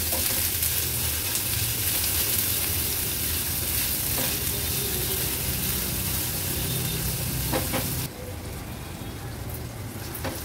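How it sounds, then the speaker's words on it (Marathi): Finely chopped onion sautéing in hot oil over lowered flame, a continuous close crackling sizzle that drops noticeably quieter near the end, no talking. "कांदा तेलावर छान परतून घ्यायचा आहे"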